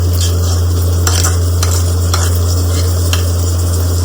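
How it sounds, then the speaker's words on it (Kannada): Chopped tomato sizzles and fries in a hot pan while a spoon stirs it, with steady sizzling and scraping strokes throughout, joined by a constant low electrical hum. "1 ಟೊಮೆಟೊನ ಹಾಕೊಂಡು ಚೆನ್ನಾಗಿ ಫ್ರೈ ಮಾಡ್ಕೊಳ್ಳೋಣ"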